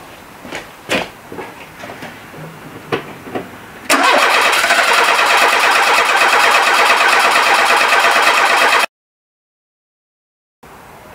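Renault 11 GTL engine, unused since 2011, cranks after a few clicks and knocks, catches abruptly and settles into a loud, steady close-up idle before cutting to silence.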